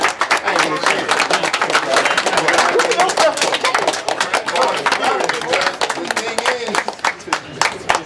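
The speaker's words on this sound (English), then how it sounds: "give them a round of applause, man" An audience gives a sustained round of applause at a ministers' gathering, dense clapping running steadily throughout at close range with some voices mixed in.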